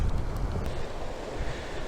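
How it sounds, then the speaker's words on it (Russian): Sea waves breaking against an old ruined structure with protruding rebar on the coast of a Norwegian village, a continuous close wash of surf mixed with wind buffeting the microphone. "Волны красиво разбиваются вот об это строение."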